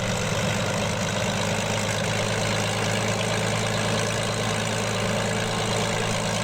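A World War 2 P-40B Tomahawk fighter's engine idles in Microsoft Flight Simulator, a loud, steady low rumble with a rough, throbbing texture that holds unbroken throughout.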